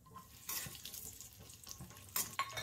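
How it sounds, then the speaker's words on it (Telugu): Dry fruits and raisins fry in ghee in a kadai: a soft, low sizzle with intermittent bursts of spatula stirring and scraping that grow louder near the end, with no speech. "డ్రై ఫ్రూట్స్ వేసుకొని వేయించుకోవాలి. కిస్మిస్ కూడా వేసుకొని వేయించుకోవాలి"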